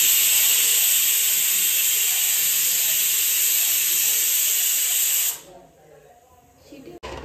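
A pressure cooker making tomato bath releases a loud, sharp, continuous steam whistle for about five seconds, then cuts off abruptly, leaving a faint quieter hiss.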